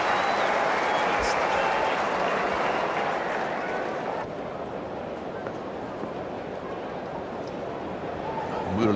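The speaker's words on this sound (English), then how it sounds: "So a big cheer goes up because Lara has survived" Big cricket crowd at a 2005 World v Asia one-day international roars and cheers steadily for the full stretch, a dense sustained wash of noise that dips slightly midway and swells again at the end.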